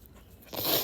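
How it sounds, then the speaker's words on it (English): Scissors trim a long paper word phrase for a scrapbooking layout, one brief close crunchy snip rising at the end after a near-silent start. "I decide to trim it with some scissors"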